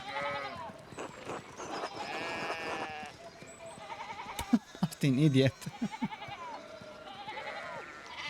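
Sheep bleat in a farm setting from the hand-painted video game Pentiment, with strident calls near the middle mixed among several voices talking over ambient game sounds.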